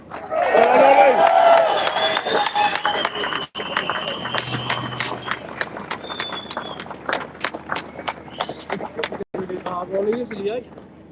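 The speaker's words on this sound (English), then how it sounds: "Another big round of applause for Ollie there" A crowd at an outdoor farmers' protest against inheritance tax claps in a steady, evenly spaced rhythm of sharp strikes that carries on for several seconds, with voices speaking over it.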